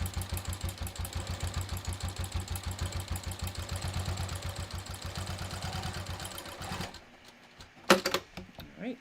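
A sewing machine stitches close beside a seam of a handmade wallet, a fast steady mechanical chatter for about seven seconds that stops, followed by a few sharp handling clicks.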